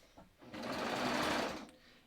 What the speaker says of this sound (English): I'm just gonna serge right up to the shoulder